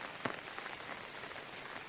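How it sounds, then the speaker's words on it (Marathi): Heavy rain falls in a rural village yard with mango trees, a steady dense hiss with scattered sharp drop taps close by and no voices. "एवढा पाऊस आहे एवढा पाऊस आहे"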